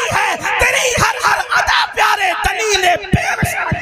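A crowd shouts and yells in loud, repeated bursts, answering a Naara-e-Takbeer call at an Eid Milad-un-Nabi religious gathering, with rhythmic collective shouting throughout.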